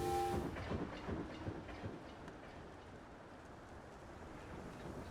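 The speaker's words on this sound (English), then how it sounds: "And our other train going full speed in front of it." A train running at full speed in a train automation video game, heard as a steady, moderately loud rolling rumble with faint clatter, plus a brief tonal horn-like note at the very start.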